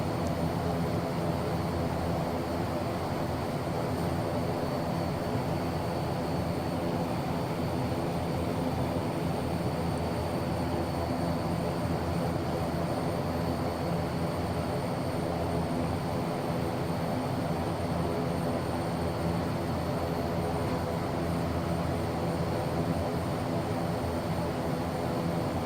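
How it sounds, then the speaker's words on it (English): A Fokker F27 airliner in a flight simulator game drones with a steady, even engine hum and faint high whine, holding unchanged throughout. "move the aircraft."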